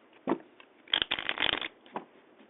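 A deck of cards long left unused is shuffled by hand: a short snap, then a dense run of rapid riffling clicks, then a final tap, all close and distinct with no talking.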